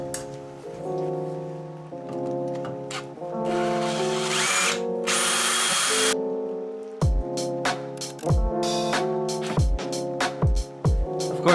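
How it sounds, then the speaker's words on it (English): A power drill with a dull bit whines in sustained bursts, then stops and starts in short repeated pulses, loud and close, while mounting a starter motor on a Ninja H2 crosskart build. "Of course, the drill bit's dull."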